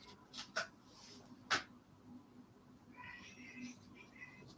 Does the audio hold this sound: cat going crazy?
yes